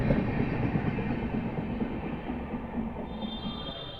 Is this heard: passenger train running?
yes